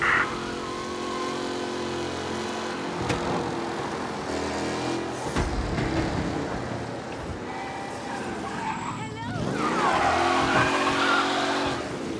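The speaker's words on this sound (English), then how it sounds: "Officers reporting a race car driving at speed through the city." A race car speeds through the city in the Mafia Definitive Edition video game, its engine roaring and revving loudly through gear changes, with tires squealing and a surging burst of acceleration near the end.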